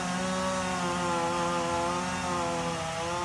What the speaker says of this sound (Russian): Бензопилой подпиливаем, трактор толкает.